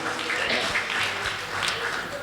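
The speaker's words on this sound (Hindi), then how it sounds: "जोरदार तालियां बजाइएगा" An audience at a Mahavir Nirvan temple donation ceremony applauds, a broad continuous patter of clapping that stays even and moderately loud throughout.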